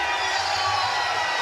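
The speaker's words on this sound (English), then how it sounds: "The big cheer you can hear, it's for the big German" Arena crowd at a bouldering World Cup semi-final in Munich cheering for German climber Jan Hoyer, a broad steady roar of many voices held throughout, fairly loud and distant with no single voice standing out.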